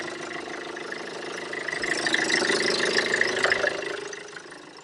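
Land Rover Freelander 2 diesel engine running just after a very cold start with failed glow plugs, a steady rough idle with a knocking clatter that swells slightly mid-way before settling, heard alone and close.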